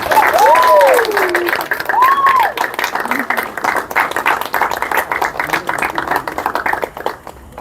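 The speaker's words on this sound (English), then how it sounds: "I now ask you to give a big round of applause for the inaugural cohort of the Virgin Islands" Audience applause for the inaugural cohort of the Virgin Islands Icon Awards Training Academy at a cocktail awards event, steady clapping throughout with cheers and a voice over the first few seconds.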